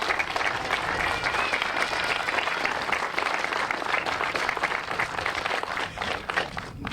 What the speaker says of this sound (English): So give John and Debbie Markowski a round of applause.